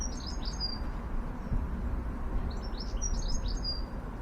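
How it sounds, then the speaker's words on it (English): Goldfinches chirp and twitter in quick clustered bursts at the start and again near the end, over a steady low rumble of outdoor garden background noise. "From sunrise to sunset, that's all I hear in the garden, goldfinches singing."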